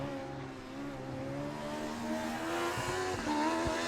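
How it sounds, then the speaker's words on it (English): Race car number 61 crossing the finish line with its engine droning steadily and rising in pitch, followed by a few faint popping backfires near the end, with no one talking. "So had a little bit of backfiring there as car number 61 crossed the line"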